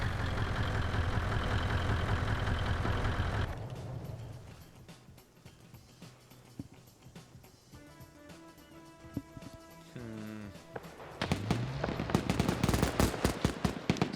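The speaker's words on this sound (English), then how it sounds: "So you got some shooting up here at the OFCRA guys." Gunfire in a World War II style multiplayer battle around an anti-tank gun crew, with dense rattling bursts and sharp shots of varying distance, engine rumble underneath and a loud burst near the end; no talking.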